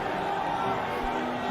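A large crowd at an Ireland versus Bangladesh one-day international cricket match roars steadily after a boundary hit, a dense and distant wash of cheering with a voice speaking over it.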